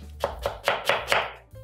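A knife cuts an onion into strips on a board, six crisp chops in an uneven rhythm, close and clear with no voices.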